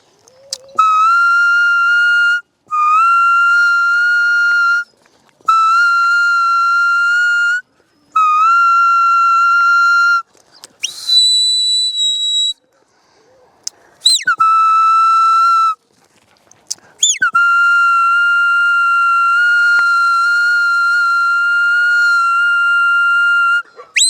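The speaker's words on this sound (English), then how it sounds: "I held my whistle on, so that was a big long side." A loud, shrill herding whistle for a working stock dog, blown in long sustained blasts, several held tones separated by short gaps, with a couple of brief rising and falling notes.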